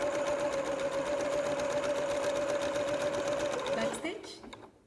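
A sewing machine stitches an upcycled T-shirt in a fast, steady whirring run up close, then stops and the motor winds down.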